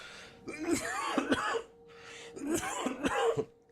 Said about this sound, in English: I'm gonna probably cough through this